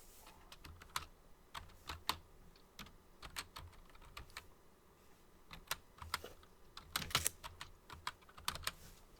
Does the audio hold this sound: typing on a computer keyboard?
yes